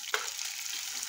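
Peanuts drop into a hot frying pan while cooking Nepali vegetarian food, giving a brief clatter followed by a soft, steady hiss of frying oil.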